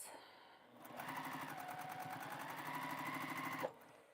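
A sewing machine stitching quilt pieces, running steadily for about three seconds with a fast, even mechanical whir and chatter that starts and stops cleanly, close and loud with no talk over it.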